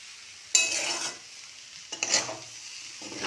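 Pasta with fresh carrots and peas being stir-fried in a pan, with two bursts of scraping, sizzling stirring close by separated by quieter frying, no voices.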